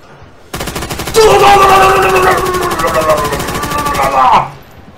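Rapid automatic gunfire from a weapon in a zombies video game, one loud, sustained burst lasting several seconds, with a voice shouting over it before it stops abruptly.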